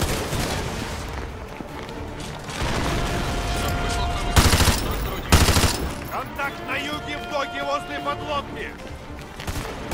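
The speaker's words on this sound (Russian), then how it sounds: "Я зачем перезаряжаюсь? Это же пулемет, чертов." Sustained machine gun fire in Call of Duty Modern Warfare 2 Remastered rattles in long, loud, dense bursts, with a few heavier blasts, while someone talks over parts of it.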